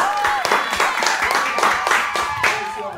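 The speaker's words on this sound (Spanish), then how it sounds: "fuerte el aplauso" A church congregation claps and applauds at a Spanish-language service, uneven rhythmic hand claps layered with voices and a cheer, steady and fairly close for a few seconds.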